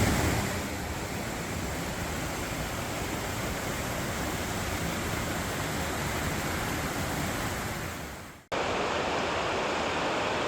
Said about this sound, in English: Just this churning water is worthwhile.